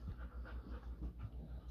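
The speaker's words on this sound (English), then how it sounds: "See, that's my 3 puppies." Several young puppies pant indoors at a home, a soft, rapid rhythmic breathing that repeats steadily at close range, fairly quiet, with no talking over it.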